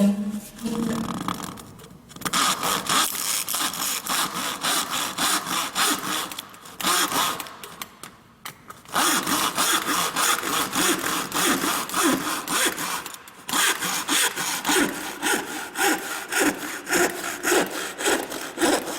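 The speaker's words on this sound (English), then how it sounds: "I'm going to use one of the other saws to cut it again." Hand saw cutting through a piece of wood, close and loud, with rapid regular back-and-forth strokes and a couple of brief pauses between bursts.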